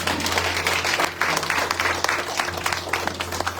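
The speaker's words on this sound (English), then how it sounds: "Can we give a clap offering to the Lord?" A congregation at a Sunday evening church retreat gives a clap offering, with dense enthusiastic applause and some sharp individual claps over a low steady hum.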